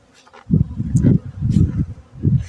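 Honeybees fly around spring hives on a sunny day, a low buzzing hum that swells in several close bursts as bees pass near, separated by brief quieter gaps.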